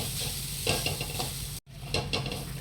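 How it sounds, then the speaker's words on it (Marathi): Grated coconut stirred in a hot pan until dry for modak filling: a loud, close, continuous sizzle with rhythmic scraping strokes of the spoon, briefly cut by a moment of silence. "खोबरं टाकून घेऊया त्याचा ओलसरपणा जाईपर्यंत आपल्याला छान त्याला हलवत राहायचं आहे"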